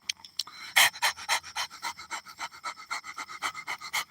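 A man imitates a dog panting, voicing rapid, breathy in-and-out huffs in a steady rhythm, close and fairly loud, with no other sound around them.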